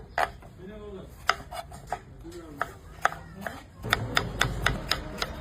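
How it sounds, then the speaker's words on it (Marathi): A knife chops tomatoes for a large batch of vegetable biryani for 200 people, each sharp tap hitting the cutting board at a loose, even pace, close by, with the strokes quickening and growing louder toward the end. "पण आता बिर्याणीसाठी टमाटे कट करून घेऊ"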